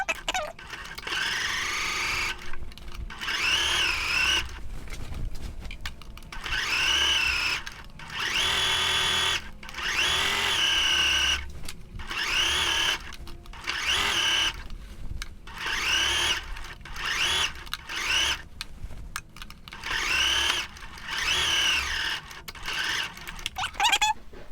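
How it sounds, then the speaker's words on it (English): A home sewing machine runs in repeated short bursts while stitching a reinforcing seam on shorts or pants, a quarter inch inside the seam allowance, with brief pauses between runs and no talk. "So I'm just going to stitch again 1/4 of an inch from that first stitch into my seam allowance just to reinforce that seam."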